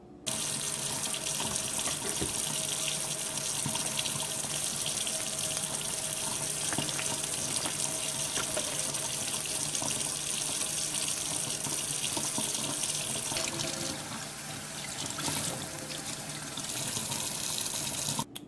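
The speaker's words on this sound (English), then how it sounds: "So let's just take them out and rinse them off" Tap water runs steadily into a sink while swai fish fillets are rinsed under it, a loud continuous close gush with slight shifts in tone near the end and no talking.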